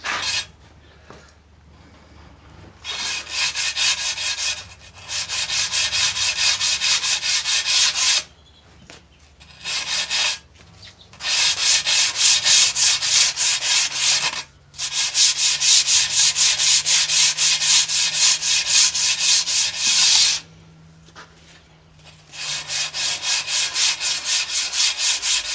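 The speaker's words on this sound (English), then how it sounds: "80 grit sandpaper." Coarse 80 grit sandpaper rubs hard against a tile edge to round it into a bullnose, in loud, steady strokes lasting several seconds each and separated by short pauses.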